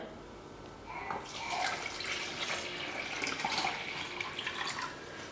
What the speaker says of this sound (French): ce que je vais faire ici, c'est mettre donc de l'eau dans le réservoir